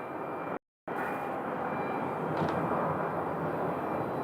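An airliner comes in to land at Sky Harbor airport, a steady broad engine roar holding at moderate distance throughout with no voices over it.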